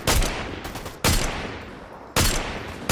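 Three loud, evenly spaced DMR rifle shots ring out in Fortnite, each a sharp crack about a second apart with a short decaying tail, no speech.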